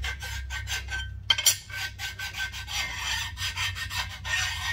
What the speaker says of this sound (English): We're not trying to file that flat. All we're trying to do is get rid of the burrs.